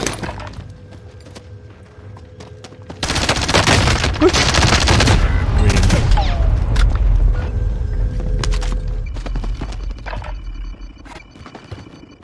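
Loud sustained automatic gunfire in a Call of Duty: Warzone Rebirth match, a heavy burst of shots beginning abruptly and continuing for several seconds before easing, with quieter background battle sounds; players talk briefly.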